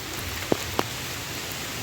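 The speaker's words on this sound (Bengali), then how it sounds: "খুব বৃষ্টি হচ্ছে" Steady rain hisses throughout, with two sharp drips or taps standing out midway; no voices.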